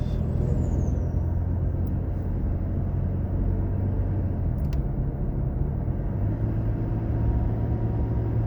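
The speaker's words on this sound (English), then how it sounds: "Look at all of those debris trucks." Heavy debris trucks rumble past on Clark Road near a new roundabout in Paradise, a steady loud low engine and road roar with a brief air-brake hiss, heard from inside a moving vehicle with no talking.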